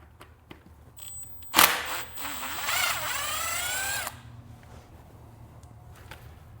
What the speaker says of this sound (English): We're gonna use some power tools.